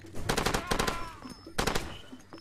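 Close, loud bursts of automatic gunfire in the video game Far Cry 2 come in two rapid clusters, with a voice faintly mixed underneath.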